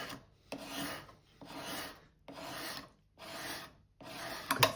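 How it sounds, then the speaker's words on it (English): A finer, thinner grade of hand scraper draws across the wooden body of an old plane in five steady, close strokes, each a dry rasping scrape separated by short pauses, with no talking. "So I've gone on to a slightly finer, thinner grade scraper."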